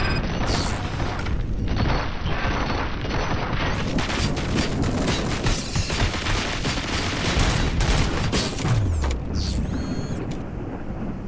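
Dense gunfire in the video game RoboCop: Rogue City, a loud sustained fusillade of rapid shots and booms with sharp crackling bursts throughout, heard without speech.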